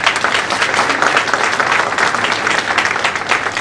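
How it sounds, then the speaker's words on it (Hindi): An indoor audience at an Indore community honours ceremony claps for the event team, a dense, even burst of applause from many hands that holds steady throughout without cheering. "आप लोग सभी मेरी इस बात के बाद ताली बजाइएगा मेरी इन सभी टीम के लिए"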